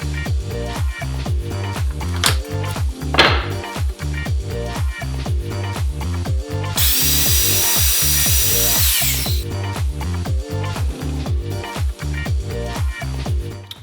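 Cordless power drill driving a screw into wood, rapid repeated whirring bursts in a steady rhythm, with a longer continuous high-speed spin midway and a few creaks and rubs, close and loud.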